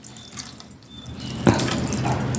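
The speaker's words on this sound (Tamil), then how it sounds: "மேல கொஞ்சம் 1 டம்ளர் அளவு தண்ணி விட்டுக்கலாங்க." Water from a tumbler pours over cooked semiya noodles for lemon semiya, a short splashing stream that starts abruptly partway through and continues steadily, close and moderately loud after a quiet start.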